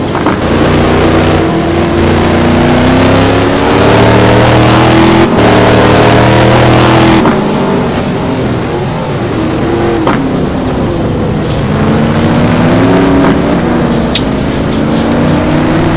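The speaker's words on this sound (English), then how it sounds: "Paul's struggling a little bit out there with that big Corvette" A big Corvette race car in a GT1 racing video game at Silverstone roars loudly and close, its engine droning and revving through gear changes for the whole stretch, with no talking.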